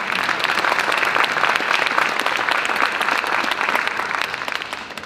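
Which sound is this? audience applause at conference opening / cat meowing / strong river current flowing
audience applause at conference opening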